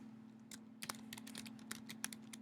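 Computer keyboard keys clack in a quick, irregular run of taps close to the microphone, while a steady low electrical hum sits beneath the typing and nobody speaks.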